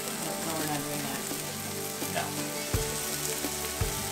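Bacon strips fry on a hot griddle while smash burgers are being made, giving a steady, dense sizzle with a couple of sharper pops or clicks partway through. No one speaks.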